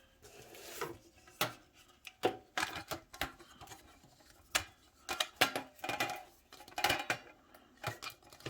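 Metal cake pan from a 100-piece set being handled and unlatched, giving a series of close, sharp clicks and clanks with irregular pauses between them.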